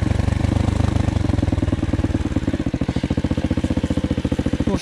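A Loncin 110/125 enduro motorcycle engine throbs with a rapid, even pulse as it brakes on compression off-road, the beat sounding close and loud.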